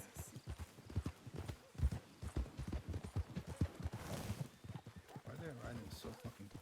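Horse hooves clip-clop steadily in a video game, close and moderately loud, running under frequent conversational speech throughout.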